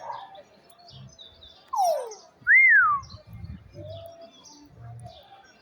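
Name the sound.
parrot calling and whistling at a market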